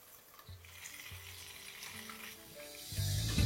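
Minced garlic and ginger frying over low heat in leftover fish-frying oil in a kadai, a steady soft sizzle with occasional low stirring knocks, growing louder near the end.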